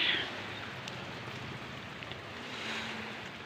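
Steady wash of sea waves during a typhoon, a broad hiss that swells and fades, moderately loud with no voices.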